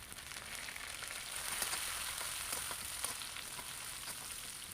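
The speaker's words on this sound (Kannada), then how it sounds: "ಸೊ ಅದ್ರ ಜೊತೆಲೇ ಹಾಗೆಯೇ ಕಸೂರಿ ಮೇಥಿನೂ ಹಾಕ್ಕೊಂಡು ಫ್ರೈ ಮಾಡ್ತೀನಿ." Sliced onions and kasuri methi fry in a pan for a palak rice dish, giving a steady, close sizzle with soft crackles and faint stirring throughout, no voices.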